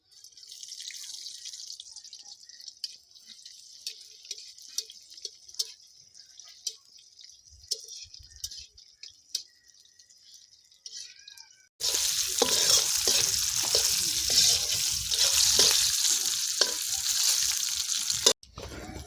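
Chopped onion tipped into fried garlic in a pan, setting off a loud, dense sizzle partway through, after a quieter stretch of faint crackling and light clinks.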